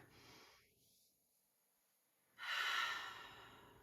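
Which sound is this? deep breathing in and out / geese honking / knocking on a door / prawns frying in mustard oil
deep breathing in and out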